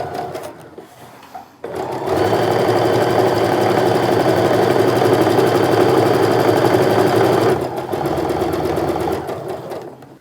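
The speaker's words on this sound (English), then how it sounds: "I'm going to go ahead and reinforce those seams at the beginning and end" A sewing machine stitches back and forth to reinforce the seam ends of a fabric sling bag. After a few soft handling clicks, a steady, loud mechanical whir runs for several seconds, pauses briefly, then resumes, with no voices.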